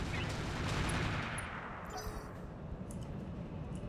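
Mech weapons firing in BattleTech, a dense, continuous roar of distant gunfire and blasts with a low rumbling body and scattered sharper cracks, holding steady throughout.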